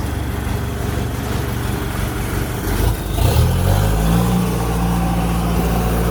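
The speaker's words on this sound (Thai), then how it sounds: "อุ่นเครื่องไว้" A combine harvester's engine idles with a steady low rumble, then revs up midway into a louder, rising drone that holds near and strong, with no talk over it.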